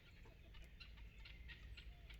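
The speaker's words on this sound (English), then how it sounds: "Well, I hear guineas right now" Guinea fowl call outdoors on a spring day, a string of quick, repeated clucking notes that sound faint and somewhat distant over a quiet background.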